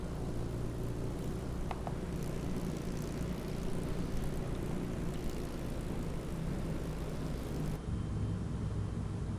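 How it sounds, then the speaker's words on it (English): A small airplane engine runs steadily just after starting, a continuous droning propeller hum at close range with no talk over it. "We got the plane going."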